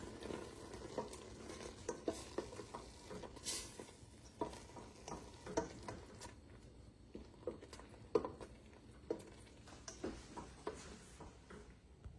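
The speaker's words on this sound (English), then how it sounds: "Now, stir it up." A spoon stirs pasta sauce in a pan, giving repeated scraping and clacking strokes at an irregular rhythm over a faint background hiss, close and fairly quiet.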